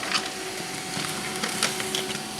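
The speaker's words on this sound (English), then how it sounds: "The configuration report prints." An inkjet printer running a configuration report sheet: steady mechanical whir and clatter with brief carriage clicks, continuous and close throughout.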